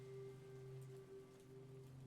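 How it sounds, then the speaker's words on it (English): Rain falls in the video game How We Know We're Alive as a faint, steady patter beneath a low ambient hum, with no voices. "That's probably just the rain."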